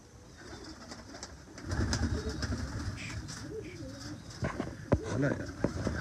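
Soft pigeon coos, low and throaty, repeating a few times amid background chatter and ambient noise, fairly close but quiet.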